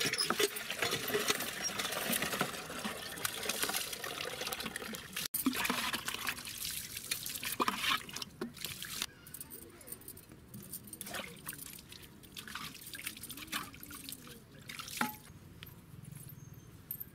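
Hands being washed with water, with running water trickling and pattering in soft, uneven bursts that are fairly faint and close.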